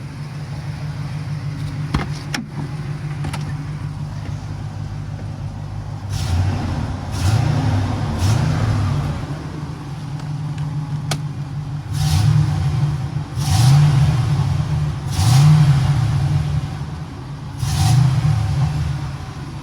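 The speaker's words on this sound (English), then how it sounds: "And then I'm just gonna hit the throttle." A large Chevy van engine with its catalytic converters cut off idles with a deep rumble, then revs up repeatedly in loud throaty bursts that rise and fall.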